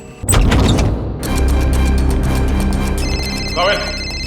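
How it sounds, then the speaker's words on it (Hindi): A telephone rings with a repeated electronic tone amid loud, busy background sound and voices, the ring standing out near the end. "सर फोन की घंटी बज रही सर।"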